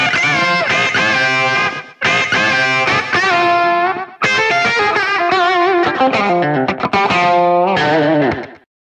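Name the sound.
rockabilly country Fender-style distorted electric guitar solo tone, Line 6 Helix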